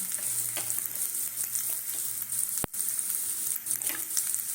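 Garlic and ginger sizzle steadily in hot oil for a momo filling, a soft continuous frying hiss with a brief utensil clack partway through, no talk.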